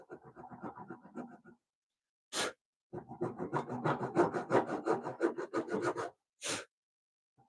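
A hand saw cuts the waist of a wooden dovetail for an angle bracket, close rasping strokes in two bursts separated by short pauses, with quick sharp scrapes between them.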